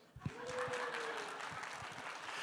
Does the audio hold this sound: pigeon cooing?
no